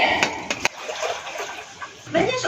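Water splashing into a pot in a home kitchen in Taiwan, heated for coffee and green tea, with brief sloshing and splatter bursts close by while a person talks over it.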